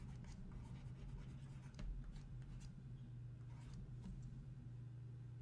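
Marker or chalk writing on a board during a physics lecture, steady scratchy strokes over a constant low room hum, fairly close and moderately loud, with no talking.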